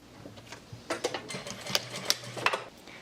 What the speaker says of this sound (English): we're going to sew a 1/2 inch down and stop at the bottom